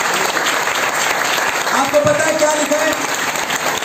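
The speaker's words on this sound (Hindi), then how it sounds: "ताली बजाओ जोर से" A congregation at a Holy Spirit seminar sermon claps loudly and continuously in a dense roar of hands, with voices briefly rising over it.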